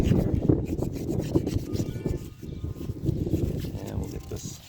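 Sandpaper rubbed back and forth along the handle of a hand-carved wooden crochet hook, a soft repeated rasping close to the mic while someone talks over it.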